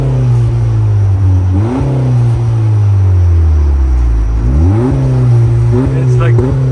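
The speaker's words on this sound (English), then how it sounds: "No, put it in sport mode," A Honda Accord Sport engine, 2018-2021 generation, revs loudly in sport mode at a car meet, climbing twice in pitch before dropping back to a steady rumble, with voices talking nearby.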